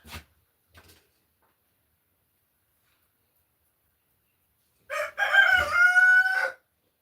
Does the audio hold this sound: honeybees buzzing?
no